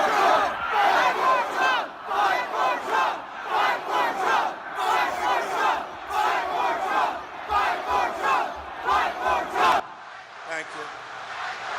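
A large crowd at the Capitol chants in loud rhythmic bursts, heard as a played-back recording; the repeated shouted phrases rise and fall for about ten seconds before cutting off abruptly.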